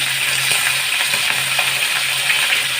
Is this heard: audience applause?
no